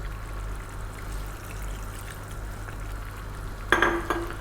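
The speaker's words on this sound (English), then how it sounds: "We're going to add a little bit more water." Water is poured into a pot of mutton and potato curry on a stove turned above medium, a short splashing burst near the end over a steady low kitchen hum.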